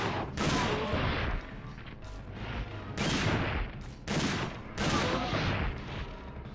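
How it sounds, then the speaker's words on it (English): Shotgun blasts in Dino Crisis 2, four heavy, loud shots spaced about a second apart, each with a broad crack and a short decaying tail over a low background hum. "The shotgun has a lot of range for a shotgun."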